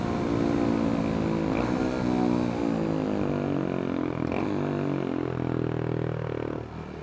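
A Honda Trail 125 (CT125) motorcycle rebuilt with a 164cc big bore piston and cylinder and fitted with a pod air filter on the throttle body runs with a loud, steady engine drone, rising and falling in pitch as it is ridden.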